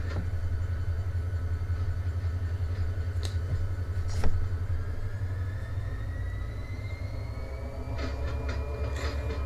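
A train in Run8 Train Simulator rumbles steadily with a deep continuous drone, a rising whine building late and a few sharp clanks scattered through, no voices.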